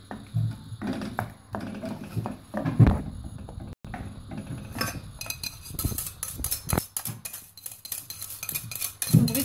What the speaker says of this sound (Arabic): غادي نضيفو عليه ديك لاصوص اللي صاوبنا ديال الحليب والنشا وشويه ديال الابزار. غادي نبقاو نحركو